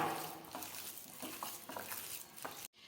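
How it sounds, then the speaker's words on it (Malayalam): Hands squish and knead mashed ripe plantain mixed with sugar, giving soft, wet, sticky patters at an irregular pace, quiet and close, ending in sudden silence. "നമുക്ക് നന്നായിട്ട് കുഴച്ചെടുക്കാം"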